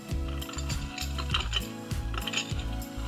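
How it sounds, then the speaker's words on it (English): The ice dispenser on an American Girl doll kitchen set's toy fridge gives a ratcheting, clattering mechanical rattle, repeated in uneven bursts for a few seconds with no talking. "And you can even dispense ice"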